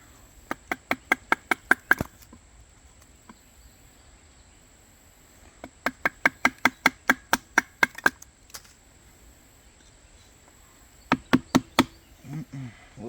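A Work Tuff Gear Warhammer knocks pieces out of wood in three bursts of rapid, sharp, loud strikes, each a rhythmic string of about eight to ten hits separated by pauses, with faint background hiss.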